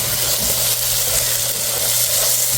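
Ground spice paste with added water cooking down in oil in a pan for a koi fish and cauliflower curry, giving a steady, close, unbroken sizzle with no voices.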